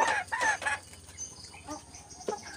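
Rhode Island Red chickens, about six months old, give a few quick, close clucks, followed by quieter scratching and faint shuffling sounds.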